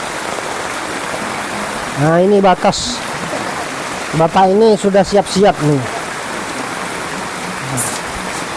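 Steady rushing of floodwater pouring like a river along a village main road in Lambheu after rain, a constant wash of noise beneath two short bursts of someone talking.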